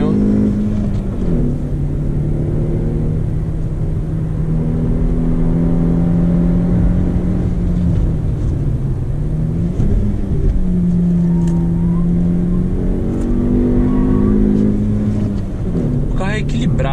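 Onboard a 2018 Jeep Renegade 1.8 with manual gearbox, the engine rises and falls in pitch through accelerations and downshifts with heel-and-toe blips, a loud continuous drone close up in the cabin.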